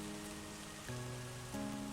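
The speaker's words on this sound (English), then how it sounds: "Goats don't like the rain, Muddle." Soft, steady rain patters faintly and continuously beneath gentle sustained musical tones.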